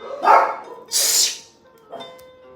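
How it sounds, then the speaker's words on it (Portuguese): Two or three sharp dog barks ring out, close by and loud, with short pauses between them. "Meus cachorros latindo."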